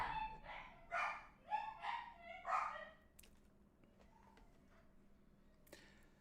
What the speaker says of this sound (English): And now my dogs are going to bark because my wife's home.